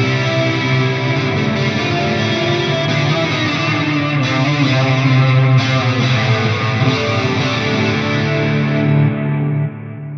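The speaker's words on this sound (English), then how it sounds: "I've got this really cool flanger that I dialed in" A dense, distorted electric guitar with a swirling, sweeping effect playing continuously for several seconds, then dropping off at the end.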